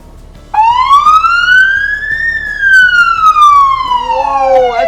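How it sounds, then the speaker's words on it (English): A loud police car siren wails, its pitch sweeping up then gliding down in a long rising-and-falling tone, close by with a steady low rumble beneath. "to turn the lights and sirens on, you're just going to press the red alert button."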